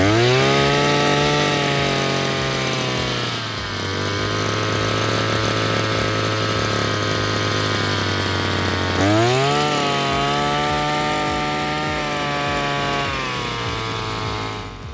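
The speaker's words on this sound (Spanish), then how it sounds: "Una guadaña potente para todo tipo de trabajo y todo tipo de terreno." Power Master PME 430 two-stroke brush cutter running close and loud, a buzzing high-pitched engine whine that drops to a lower idle then revs back up, with no talk.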